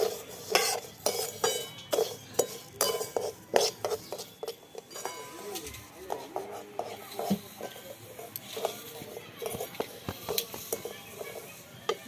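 Pitha filling fries in ghee while a spatula stirs and scrapes a metal pan, giving repeated clinks and scrapes over a soft sizzle, with no voices.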